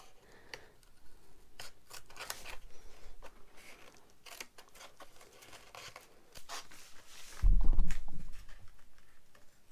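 Scissors cut cloth for papier-mâché bat wings in a series of close, crisp snips and rustles, with irregular pauses and a louder crinkling thump near the end.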